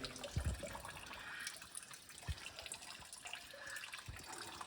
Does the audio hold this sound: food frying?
no